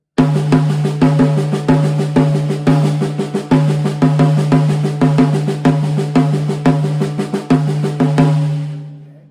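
A drum kit plays a fill built from two measures of Ted Reed's Syncopation exercises: dense, steady strokes with regular louder accents, close and loud for about eight seconds, then ringing out alone with no talking.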